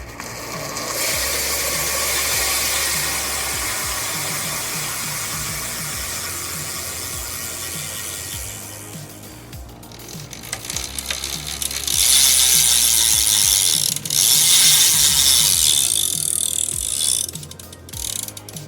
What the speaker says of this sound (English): So now let's hear this Freewheel.